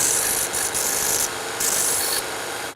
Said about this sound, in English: I'm going to bring it over to my Burr King though real quick and clean it a little nicer.